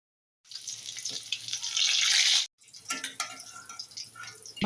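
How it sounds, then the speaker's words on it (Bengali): Fish pieces frying in hot oil in a kadai, a loud close sizzle that bursts in, cuts out briefly midway, then resumes with crackling spits and pops. "এবার মাছ ভেজে নিব।"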